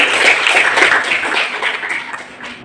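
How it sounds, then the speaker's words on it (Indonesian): A class claps together in a sustained burst of applause, steady and fairly loud throughout, with no voices standing out. "Tepuk tangan dulu."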